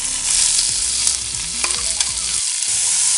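Green chili, curry leaves and onion dropped into hot coconut oil in a pan, a loud close sizzle with stirring scrapes, the frying hiss briefly dipping near the end.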